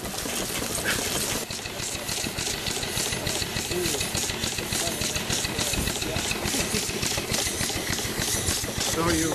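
A Hemmings engine with a reversing mechanism runs at a vintage engine meet, a loud, steady mechanical chugging with rapid rhythmic knocking that continues throughout, close by.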